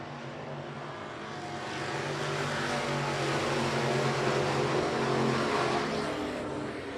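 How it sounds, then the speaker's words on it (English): Midwest modified race cars circling a speedway oval, a pack of engines swelling from moderate to loud as they pass, then easing slightly, heard at a distance without talk. "Adam Brotherton sliding into the 2nd position in turn 2 on the bottom."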